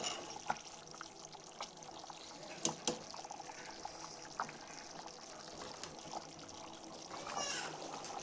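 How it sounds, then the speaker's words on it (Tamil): Soft bubbling and simmering of mutton biryani in a pot, steady and close, with a few faint clinks and light background noise. "பிரியாணி நல்லா கொதி பிடிச்சி நல்லா வேகுது நல்லா வேகுது"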